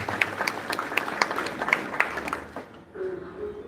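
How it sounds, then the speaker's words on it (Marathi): An audience at a temple gathering during a Bhagavat katha gives a burst of loud clapping that thins out and gives way to a voice near the end. "सगळ्यांनी एकदा जोरदार टाळ्या वाजल्या"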